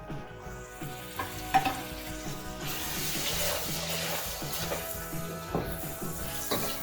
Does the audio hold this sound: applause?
no